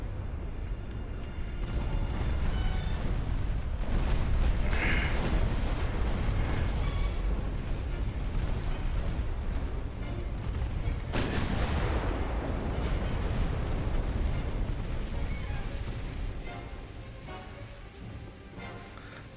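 Naval secondary guns fire in Ultimate Admiral Dreadnoughts, a continuous rumbling barrage of dull, overlapping booms that swells and fades slightly, with no voices.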